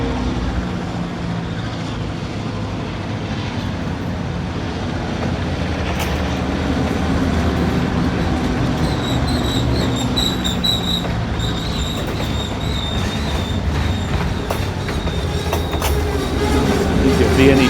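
A second model train runs along its track with a steady rolling rumble and clatter, and a high whistle tone sounds repeatedly in the middle stretch over the continuous running noise.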